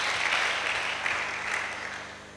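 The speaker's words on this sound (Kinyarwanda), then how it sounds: "Reka dukomere Imana amashyi ko abantu bava kure kandi bakaza bagakira." A church congregation at a prayer and fasting service gives a sustained round of applause, dense many-handed clapping that stays loud and even with faint voices mixed in.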